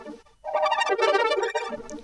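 A synth arpeggio built from a meat texture sample from Lost Face, unprocessed and not reversed, swells into a dense, buzzy, wavering tone that holds steady, then thins out, heard alone and fairly quiet.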